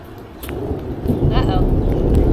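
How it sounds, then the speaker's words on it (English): Thunder rumbles low and broad during a heavy rainstorm outdoors, building in loudness over a couple of seconds beneath steady rain hiss, with a brief higher crackle in the middle. "it is now raining harder and thundering"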